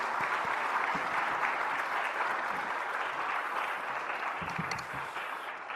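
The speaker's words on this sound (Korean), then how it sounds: "우리 백윤영 목사님을 뜨겁게 박수함으로 오늘 또 모시겠습니다" A church congregation at a spring revival service gives loud, continuous applause to welcome the guest pastor, a dense even wash of clapping lasting several seconds with no speech over it.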